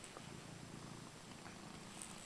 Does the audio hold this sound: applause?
no